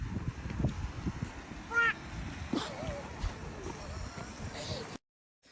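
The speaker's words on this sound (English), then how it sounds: "It's raining in this clip, so what you hear is wind and stuff." Rain falling outdoors with wind buffeting the microphone, a steady rough wash of noise over about five seconds with a few brief higher chirps, ending abruptly in silence.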